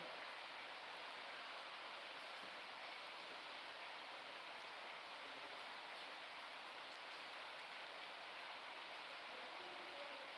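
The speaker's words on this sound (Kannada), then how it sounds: "ಮಳೆ ಬಂತು ಮಳೆ" Steady, dense rainfall hisses evenly throughout, a constant wash of drops with no pauses and no voices.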